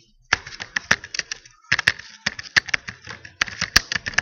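Typing on a computer keyboard while entering text into a database field: crisp, uneven clicks arriving in quick clusters with short pauses, close and clear with no voices.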